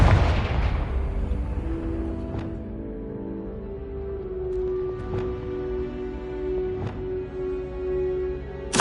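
A Confringo fire spell explodes in Hogwarts Legacy gameplay: a loud booming blast at the start, followed by a fading rumble, a sustained tone and a few sharp sparkling hits.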